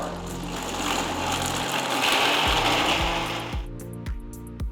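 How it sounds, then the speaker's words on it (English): Electric grinder whirring loudly as it pulverises nuts, seeds and saffron into a fine powder, a dense continuous roar that cuts out near the end, leaving a few rattling taps. "Grind all the ingredients to a nice fine powder."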